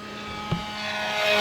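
An FMS Super EZ V4 RC airplane, 1200 mm wingspan, makes a full-throttle pass, its electric motor giving a steady high whine that grows louder toward the end, with a brief thump partway through.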